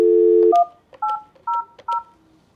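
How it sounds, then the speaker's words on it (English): Grandstream desk phone keypad beeping as an extension number is dialed: a long opening tone, then three or four short, evenly spaced dual-tone beeps, clear and close with no talking. "Type the extension that you'd like to transfer it over."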